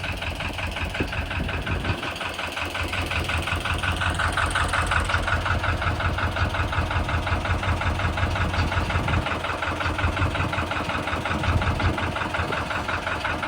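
A fishing boat engine out at sea on a pomfret fishing trip, running steadily and fairly loud throughout with a low, even throb and no talking.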